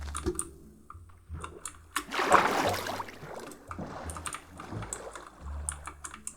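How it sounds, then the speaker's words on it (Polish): A boat glides along a river in Minecraft, its soft watery paddling and splashing swelling briefly amid light clicking, with no talking. "Płyniemy dalej rzeką."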